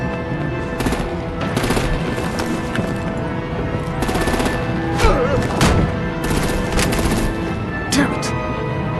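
In Telltale Batman, artillery and rapid gunfire rattle almost continuously in loud, dense bursts with heavier booms mixed in, while voices speak intermittently underneath.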